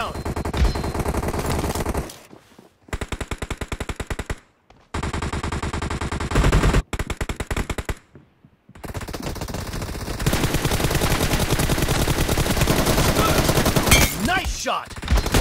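Rapid automatic gunfire from a shooting video game, long dense bursts broken by brief silences, loud and close, with game voice callouts mixed in.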